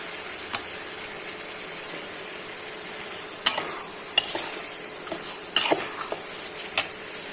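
Chopped vegetables such as potato, carrot and sweet pumpkin go into a pan of fried spices, with soft sizzling under scattered scrapes and clinks of a stirring spoon.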